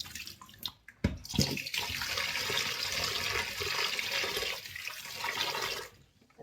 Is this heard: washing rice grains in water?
yes